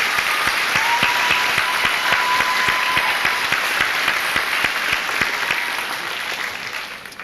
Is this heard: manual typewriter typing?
no